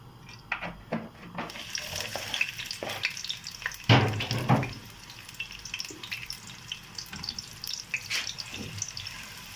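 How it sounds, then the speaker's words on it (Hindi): A cup of cooking oil poured into a hot pan for a home-style chicken and vegetable curry, sizzling and crackling steadily, with a louder burst of frying in the middle and scattered clinks of utensils. "1 कप तेल डालना है।"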